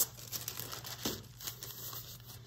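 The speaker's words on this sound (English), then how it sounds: "If you find that your child is ripping small pieces off like this" Orange tissue paper is torn into small pieces by a child, giving soft, close crinkling and a few short ripping sounds, faint and intermittent over a low background hum.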